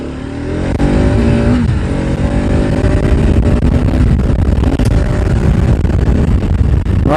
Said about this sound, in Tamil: வண்டியோட எக்ஸாஸ்ட் நோட் சூப்பராக இருக்குது